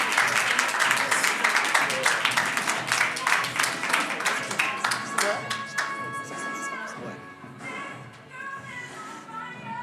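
Audience applause for prize winners at a women's ambition challenge awards ceremony: dense, sustained clapping that is strong at first, then thins into scattered claps toward the end, with a little murmuring under it.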